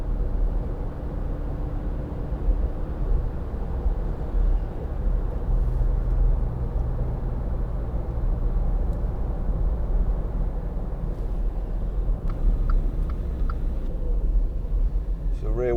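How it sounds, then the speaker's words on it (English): A 2012 Volkswagen up! 1.0 three-door's small engine hums steadily through the cabin as it is wound up through the gears, a continuous loud drone with road rumble beneath. "You can wind the engine up if you want and just take it through the gears"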